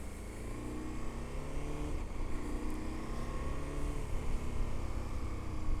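A 2022 KTM 1290 Super Adventure S fitted with an aftermarket exhaust idles nearby with a steady, low rumbling engine note and slight rises in pitch, fairly quiet and continuous with no talk.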